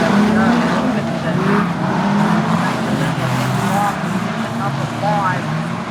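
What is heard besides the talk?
street stock race cars racing at a speedway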